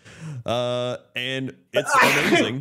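Someone speaks briefly during a football talk show, then gives one loud, explosive sneeze close to the microphone.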